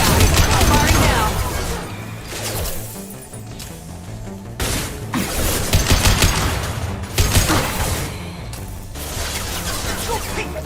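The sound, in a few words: gunfire in the video game Mass Effect 2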